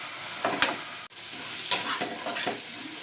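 Onion and tomato fry in hot oil for a chutney, a steady close sizzle with occasional stirring scrapes and one brief knock.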